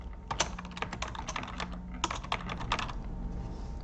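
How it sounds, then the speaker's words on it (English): Rapid, irregular clatter of keys typed on a computer keyboard while filling in a procedure in a spreadsheet, close and steady with a few sharper strokes, no talking. "Now just go in and start typing it in."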